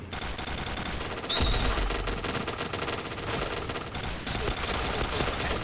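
Rapid automatic gunfire from a Famas G2 rifle in the first-person shooter Point Blank, a dense continuous rattle of bursts that stays loud throughout with a heavier jolt partway through.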